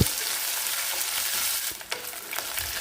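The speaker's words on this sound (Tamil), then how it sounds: "வெங்காயம் நல்லா வணங்க வேணுங்க நல்லா வணக்கி விட்டு" Onions sautéing in a pot for mushroom biryani give a steady broadband sizzle with occasional stirring scrapes, close and continuous, with no talking.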